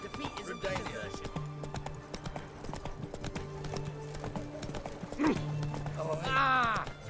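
Hooves of Roach, a horse in the video game The Witcher 3, clip-clop in a steady rhythm under townsfolk chatter and game music, before a short neigh near the end.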